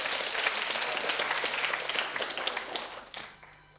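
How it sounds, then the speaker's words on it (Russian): A studio audience breaks into applause, a dense wash of many hands clapping together that holds steady and then tapers off near the end. "Тогда аплодисменты."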